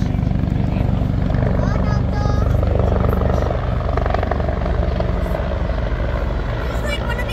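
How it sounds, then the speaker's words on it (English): A presidential helicopter passes close by, its loud, steady rotor thump and engine roar dominating throughout, with voices faintly mixed in under the noise. "Here comes the chopper."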